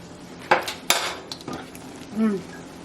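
Plates being set out in a kitchen, a few close clinks and knocks of dishes and cutlery in quick succession, followed by a soft scrape.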